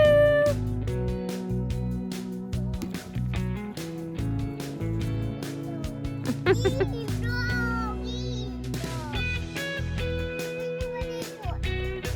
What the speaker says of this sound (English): The next animal we've had in our house the longest is our cat Brew.